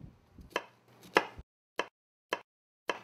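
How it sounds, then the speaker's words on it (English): A knife chops an onion on a cutting board, several crisp separate thuds, first a quick cluster and then evenly spaced single cuts, close and clear with nothing else heard. "I'm going to take one onion. Cut off the end."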